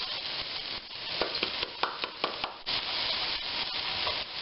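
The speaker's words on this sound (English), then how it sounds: "we're going to cook the onions through and caramelize them" Onions frying in a pan, a steady close sizzle broken by a run of sharp scraping strokes from a utensil stirring them, no voices.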